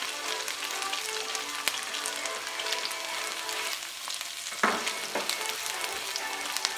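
Garlic sizzles in hot oil in a pan for Mongolian beef, a close, steady crackling fry with popping spatters and a few sharp clinks of a utensil against the pan.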